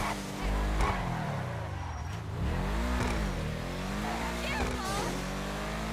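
The Ubermacht Sentinel GTS, a BMW M3-style car in GTA 5, drives with a steady engine drone that rises and falls as it revs and shifts, while someone talks over it.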